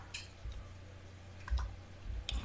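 A computer keyboard is typed on while entering values in AutoCAD 3D, just a few soft, isolated key clicks spread apart over a quiet background hum.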